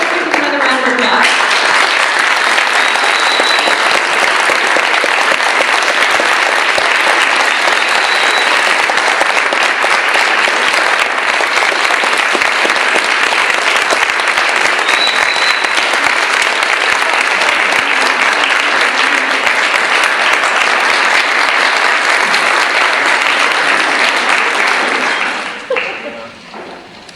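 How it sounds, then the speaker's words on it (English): Audience at an amateur stage show gives sustained, loud, dense applause lasting nearly half a minute before it fades away at the end. "Another round of applause."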